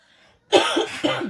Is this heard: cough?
yes